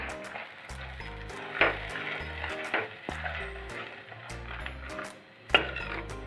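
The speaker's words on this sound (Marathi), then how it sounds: "मसाल्याला चांगलं तेलात परतून घेऊ" Onion-garlic masala frying in oil in a pan for a Bhogi vegetable dish, a quiet steady sizzle broken by a few soft scrapes and clinks of stirring, with background music running underneath.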